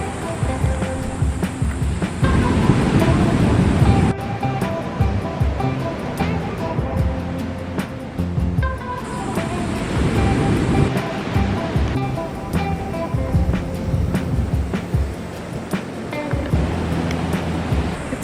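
Surf washing onto a beach at Manuel Antonio National Park in Costa Rica, where jungle meets the ocean; a steady, fairly loud wash of waves with some wind buffeting the microphone, continuous throughout with no talk.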